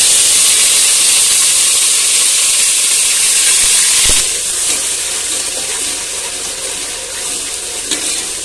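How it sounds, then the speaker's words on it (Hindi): Ginger garlic paste hits hot oil in a pan with a loud, steady sizzle and hiss that drops noticeably halfway through, then carries on at a lower, crackling level. "हमारा ऑयल गरम हो गया है तो हम इसमें अदरक लहसुन पेस्ट ऐड कर देते हैं"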